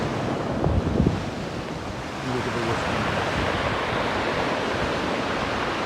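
Ocean waves crash against the seawall of the Hassan II Mosque in Casablanca, Morocco, a steady loud roar of surf and wind filling the whole stretch, with a heavier surge near the start.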